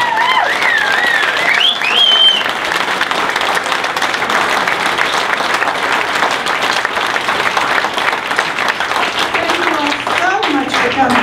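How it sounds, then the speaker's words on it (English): Sustained audience applause fills the room for Diane Bitter at an event wrap-up, loud and steady for the whole stretch, with a few whistles and crowd noise mixed in. "please, a big round of applause"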